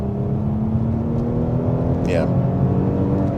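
A 2021 Audi SQ5 in comfort mode accelerating hard from 40 mph, a steady loud engine drone with rising harmonics and road roar inside the cabin, a brief voice over it.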